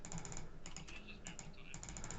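Rapid computer keyboard typing in bursts of close, crisp key clicks, with brief pauses between runs and steady room noise underneath.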